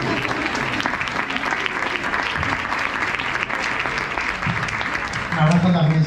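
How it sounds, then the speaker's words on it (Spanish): Audience applause at a talk welcoming speaker Juan Serrano, steady full clapping from a crowd throughout, with a voice speaking over it toward the end. "un aplauso a Juan Serrano"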